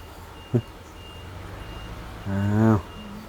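Reversing beeps from a truck backing up in a rural field setting, a steady high pitched beep repeating at intervals over background noise, with a louder engine rumble rising near the end.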